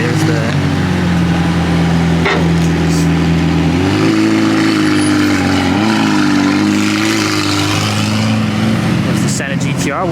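A McLaren Senna GTR on custom wheels and a Porsche Carrera GT cruise along 17 Mile Drive during Monterey Car Week, their engines droning steadily with a rising rev midway, loud and close, with people talking over it.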